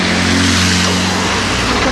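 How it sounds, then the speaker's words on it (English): Road traffic rushes past close by near the Neva River in St. Petersburg, a loud, continuous engine roar and tire hiss from cars whipping by. "You can hear the traffic whipping by."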